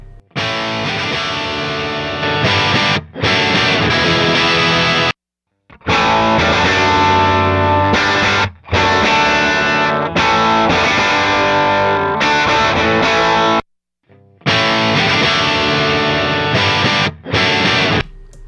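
A distorted electric guitar through a Marshall amp and cabinet, captured with an M160 ribbon mic, plays loud chugging chords in bursts separated by short silent gaps, close and dense throughout.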